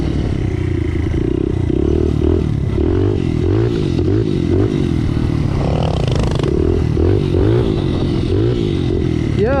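Pit bikes climb a hill with a close, continuous engine drone that keeps wavering in pitch as riders rev and ease off, along with rattles and scrapes throughout.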